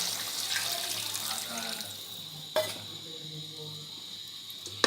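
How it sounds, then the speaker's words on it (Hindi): Water runs steadily in a quiet, continuous pour of two glasses into a cooking pot for tinday gosht, with faint clinks and a soft knock partway through. "ये मैं 2 गिलास इसमें पानी डाल रही हूँ।"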